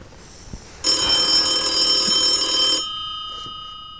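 A home telephone rings loudly and steadily for about two seconds, a bright continuous electronic ring that stops abruptly and fades out over faint room noise.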